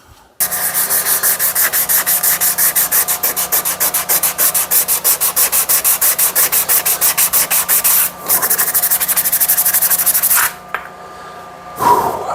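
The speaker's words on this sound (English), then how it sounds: "I've been hand sanding this True Temper Kelly Works double bit" A True Temper Kelly Works double bit axe head is sanded by hand, with fast, steady back-and-forth abrasive strokes in a close, even rhythm, briefly pausing before resuming.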